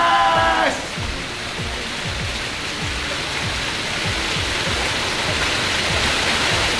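A waterfall roars with a steady, dense rush of water, loud and continuous, after a brief tonal sound at the start.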